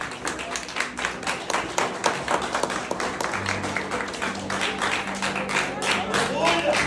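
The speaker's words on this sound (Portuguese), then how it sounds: "dê uma salva de palmas para Jesus." A congregation at a church service claps together in a steady rhythmic beat, with voices and some music underneath the clapping throughout.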